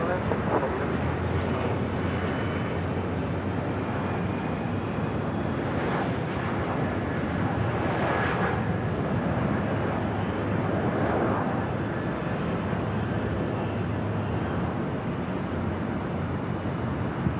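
A jet airliner landing on runway 24 right at Los Angeles International Airport roars steadily and loudly throughout, a broad continuous rumble swelling slightly mid-way, with wind buffeting the microphone.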